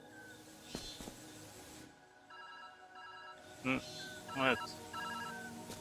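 A telephone in the puzzle game Viewfinder rings in a steady electronic trill for a few seconds in the middle of the clip, at moderate level, with a voice speaking briefly before it and short louder noises after it.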